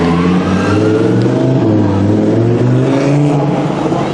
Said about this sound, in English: Very nice, Lamborghini.